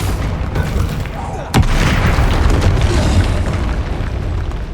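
A Confringo spell explodes in the Hogwarts Legacy video game, a sudden loud boom that breaks into a sustained roaring rumble over ongoing game noise.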